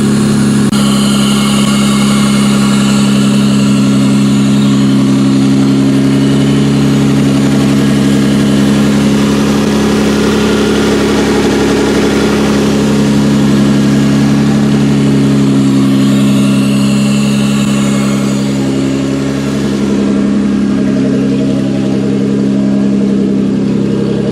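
A Toyota Camry V6 engine idles steadily and evenly throughout, a smooth low rumble with a slight rise in revs partway through, with no talking.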